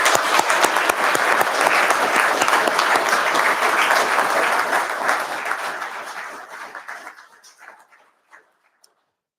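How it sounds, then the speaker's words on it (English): An audience at a Government House investiture ceremony applauds loudly and steadily, then the clapping thins out and fades to a few scattered claps before ending in near silence. "we might just have one last round of applause for all our nominees"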